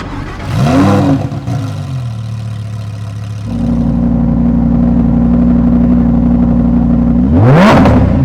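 A Lamborghini Huracán STO's engine starts close by with a loud rising whine and bark, settles into a heavy, steady idle, then revs sharply upward at the end.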